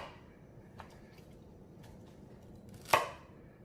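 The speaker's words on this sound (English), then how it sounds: "we're just going to cut the very ends off the celery" A knife cuts the ends off celery stalks on a cutting board for red beans and rice, making a faint chop and then a sharper, louder knock against the board in a quiet kitchen.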